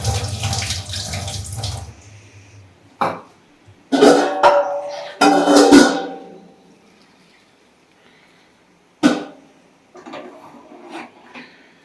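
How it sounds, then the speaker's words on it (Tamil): Tap water runs in short bursts as lentils (dal) are washed for drumstick sambar in a kitchen, with splashing gushes broken by pauses and a few small clatters. "பருப்பை நல்லா கழுவி போடணும்."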